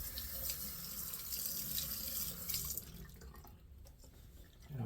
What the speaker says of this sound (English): Let me rinse now.